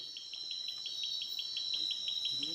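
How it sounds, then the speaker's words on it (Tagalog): Insects chirping at night in a forest, a fast, regular pulsing trill repeating evenly for the whole stretch, fairly faint and steady with no talk. "Baka kulisap yun."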